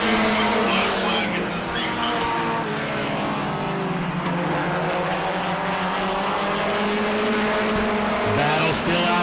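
Mod Mini race cars battle for the lead on an oval track at Auburndale, engines roaring loud and constant with overlapping whining pitches, while an announcer talks over the noise.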